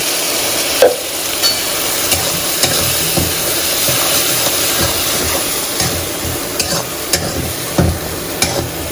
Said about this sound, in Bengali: আলুটা এখানে ভাজা ভাজা হয়ে গেছে, আর এই পোস্তটা দিয়ে দেবো।